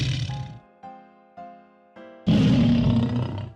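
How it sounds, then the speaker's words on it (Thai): A lion roars at a big bear in its cave in a children's bedtime fairy tale: a few short tonal growling notes build up, then a loud, sustained, rough roar bursts out at close range. "ราชสีแห่งป่าสูดหายใจเข้าลึก และปล่อยเสียงคำรามอันทรงพลังออกมาใส่หูเจ้าหมีตัวใหญ่"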